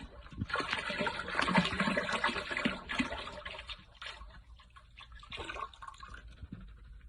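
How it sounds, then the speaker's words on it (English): Liquid is poured into a pot of water used for sterilizing canning jars, giving a loud gushing splash that fades to trickling and then swells again in a second pour. "We're gonna go ahead and pour the rest of it in with our water."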